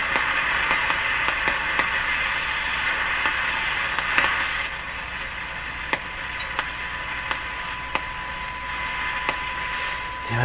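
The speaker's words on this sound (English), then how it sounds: "You have to have the radio turned up full even to hear the pleasant hiss." Steady broadband hiss from a Hallicrafters TW2000 World Wide radio turned up to full volume, with a faint tone and irregular clicking ticks running through it, constant throughout.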